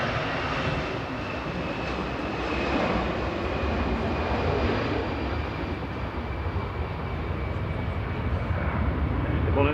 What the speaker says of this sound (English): These jets on the roll to Biza, GEZTD, flight 2129.